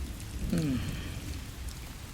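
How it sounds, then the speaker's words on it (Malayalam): Heavy rain falling outside, a steady broadband hiss that runs through the whole stretch, with a brief faint voice near the start. "പുറത്ത് നല്ല മഴയാ നടക്കാൻ വയ്യ"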